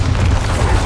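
A Bombarda blasting spell goes off in Hogwarts Legacy as a short, heavy, booming explosion with a deep low-end rumble, loud and up close.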